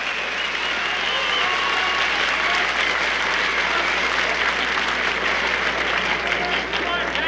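A wrestling arena crowd at an All-Star Wrestling match applauds loudly and continuously, a thick, even wash of clapping that holds without a break throughout.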